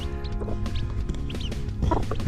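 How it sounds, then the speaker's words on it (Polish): A hen and her chicks clucking softly and continuously, a small flock murmuring close by with occasional sharper calls. "Tak wyglądają kurczaki od Haliny."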